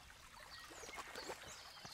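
Water trickles and babbles around stones in a medieval Kingdom Come Deliverance landscape, a faint, continuous gentle flow with small splashy details.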